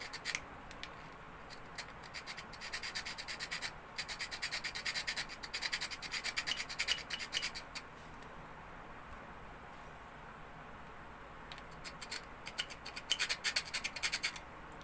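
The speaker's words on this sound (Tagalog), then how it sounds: "Kikilin nyo para maging level ulit" A hand file rasps across a rounded airsoft Glock barrel in quick bursts of rhythmic scraping strokes, close and fairly quiet, with short pauses between sets of strokes.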